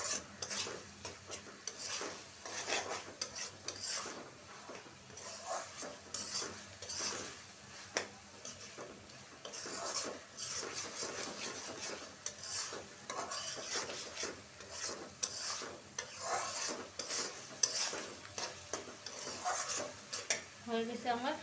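Dried fish (shutki) stir-fried in a pan: a steady stream of close scraping and stirring over a soft sizzle, with occasional clinks against the pan.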